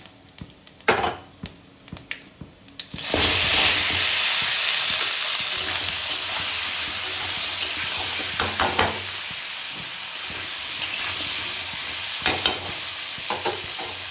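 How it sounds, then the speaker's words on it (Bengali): Potato and pumpkin hit hot oil in a pan after a few light clinks, and a loud, steady sizzle takes over and continues close up with occasional stirring scrapes. "প্রথমে আমি আলু কুমড়োটাকে একটু ভেজে নেবো, এই তেলের উপরে প্রথমে আলু কুমড়ো দেবো।"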